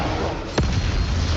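Bombarda explosion spell cast in the video game Hogwarts Legacy: one sharp burst with a falling whistle-like sweep, landing over a dense, continuous game soundscape of combat noise.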